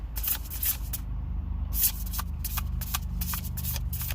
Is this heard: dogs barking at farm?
no